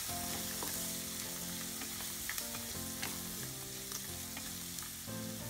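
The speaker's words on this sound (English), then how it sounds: "Mix it well and let the onion cook for about half minute." Finely chopped onions fry and are stirred in a pan for poha, giving a continuous close sizzle with small crackles and the scrape of stirring.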